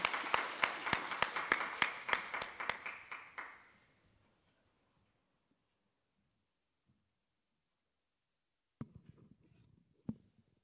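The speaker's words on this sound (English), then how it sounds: "please give a round of applause to welcome the Honorable Tokuichiro Tamazawa." An audience claps in welcome for a keynote speaker at a formal forum, a dense burst of applause lasting about four seconds before fading out, then near silence with a few faint handling noises and brief sounds near the end.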